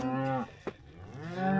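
Cattle in a pasture by a gate let out two long, loud, close moos separated by a brief pause, each a low drawn-out bellow.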